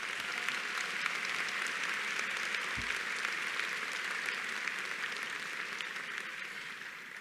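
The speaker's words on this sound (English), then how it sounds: "Please give these people a round of applause." A crowd at a university graduation commencement ceremony applauds steadily, dense clapping that holds at an even level and fades slightly toward the end.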